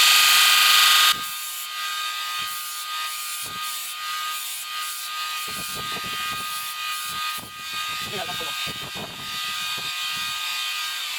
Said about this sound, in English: I'll just take it over to the grinder